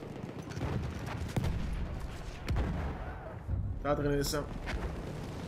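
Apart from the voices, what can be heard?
grenade explosion and gunfire in the video game Battlefield 1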